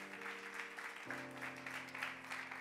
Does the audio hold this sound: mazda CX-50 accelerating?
no